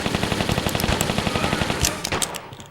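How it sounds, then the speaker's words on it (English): Rapid automatic Uzi fire from a PlayStation One game of Tomb Raider 3, set in a London level against security guards: a dense, loud stream of closely spaced gunshots that thins into a few scattered bursts near the end. "Right, I'm just going to use my Uzis. I've had enough of these security guards. I'm going to blow them away."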